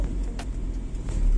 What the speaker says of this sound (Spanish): El carro baja las revoluciones, a pesar de que usted lo tiene acelerado